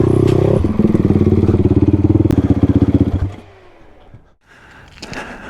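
A motorcycle engine runs close and loud with a rapid, even pulsing beat for about three seconds at the end of a shakedown test ride, then cuts off. A brief quiet lull follows before faint clatter.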